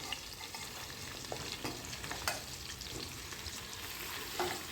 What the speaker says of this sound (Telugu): ఇప్పుడు నేను క్యారెట్, సొరకాయ ముక్కలు కూడా వేసేసుకుంటున్నాను